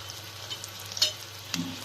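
Curry leaves hitting hot oil in a pan of potato poha with potatoes and green chillies, giving brief crackling sizzle bursts and spatters over a low steady background hum.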